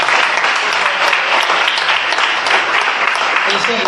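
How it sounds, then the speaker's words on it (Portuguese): A church congregation at an evangelical worship service claps in a loud, continuous wash of applause, heard close, with voices and speech mixed in underneath. "E as palmas louvem ao Senhor Jesus."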